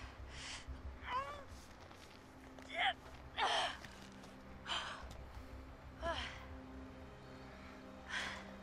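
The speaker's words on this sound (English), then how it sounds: "Yes, breathing." Breathing from a character in the horror game Until Dawn, a series of short, sharp gasping breaths spaced irregularly over steady low background hum, with no talk.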